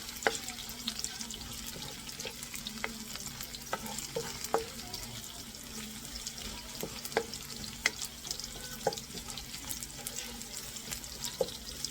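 Garlic frying in a pan for Filipino mung bean soup, a steady close sizzle with scattered stirring clicks and scrapes throughout, no voices.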